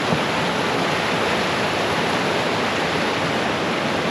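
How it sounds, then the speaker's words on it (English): Clear water of a river rushing steadily at a trail crossing in Sweden, a dense, constant broadband roar that holds loud and unbroken from start to finish with no voices. "Now we hit the river crossing. It's super beautiful here. Look at the flow."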